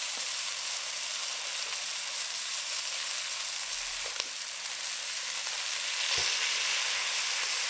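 Squid stir-frying with onion in a hot pan, a loud steady sizzle and hiss throughout with a couple of brief scraping stirs, no voices.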